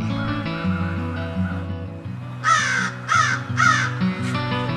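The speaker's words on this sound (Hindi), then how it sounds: "इसार कौआ केना माथ पर आबि के काम करिए" A crow caws three times in quick succession, loud and close, over background music with its sustained tones, with no talking.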